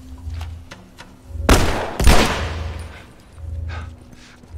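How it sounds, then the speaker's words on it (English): Pistol gunfire in The Last of Us, two sharp loud shots about half a second apart standing out over a low rumbling game ambience, with no voices. "I want to get the pistol out."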